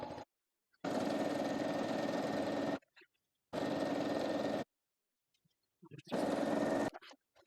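Sewing machine stitching a 1/4 inch seam through layered fabric and batting, running in three bursts of steady whirring separated by short pauses, close and fairly loud.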